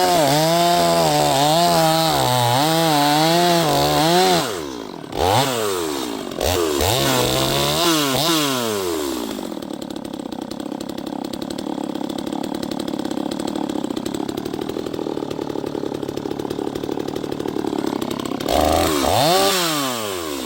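Neotec NS 846 chainsaw running close by, its loud engine buzz revving and dropping in wavering surges before settling into a steadier high drone, then a brief rise near the end, with no talking over it.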